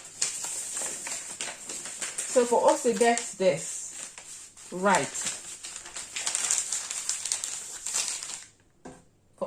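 Stiff paper used for drafting a shorts sewing pattern crackles and crinkles as it is handled, in repeated rustling bursts under steady close-up talk.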